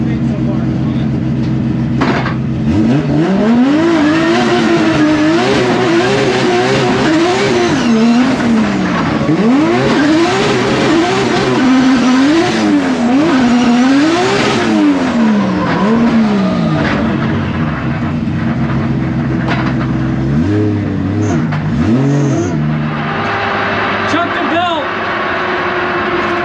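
A drift car's engine surges and falls repeatedly as it accelerates hard during drift testing, with tire squeal and skidding layered over the loud, continuous roar.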